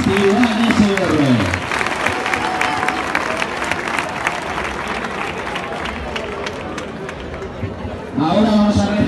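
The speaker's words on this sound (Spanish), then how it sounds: "un fuerte aplauso para las cuadrillas participantes en este concurso" Loud, sustained applause from a large crowd at a bull-running crew contest, steady clapping throughout with voices briefly audible at the start and end.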